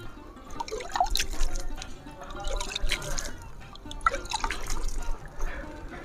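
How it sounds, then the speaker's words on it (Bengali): Water being sprinkled by hand onto garden plants in a home nursery, with soft dripping and splashing that continues steadily under faint background noise. "জল দিই দেখাচ্ছি কেমনভাবে জল দেওয়া হয় এই যে ঠিক এরকমভাবে জলের ছিটা মাঝে মধ্যে দিয়ে দিই"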